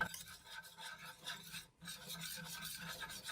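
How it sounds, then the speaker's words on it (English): A whisk scrapes rhythmically around a pan as flour is worked into melted butter, making steady close rasping strokes with one brief pause midway. "I've melted a tablespoon of butter, and I'm putting in a tablespoon of flour, and you want to whisk it around."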